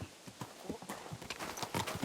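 Horse hooves clip-clopping in Kingdom Come Deliverance 2, a steady close-up rhythm of repeated strikes as the mounted horse sets off, with no talk over it.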